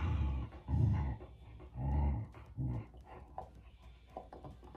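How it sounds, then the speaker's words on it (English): A dog growls in low, rumbling bursts, several close and fairly loud pulses with short gaps between them, followed by softer huffing and panting. "She is growling at you."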